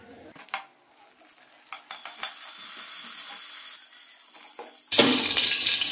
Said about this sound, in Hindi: अब हल्का सा हम इसको फ्राई करेंगे, जैसे ही ये लाइट गोल्डन होगा